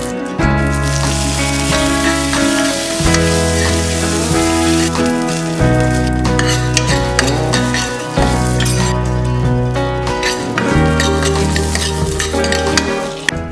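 Cumin, dried red chilies, curry leaves, chili powder and asafoetida fry in ghee for masoor dal, with crackling, sizzling and stirring clinks heard under prominent background music.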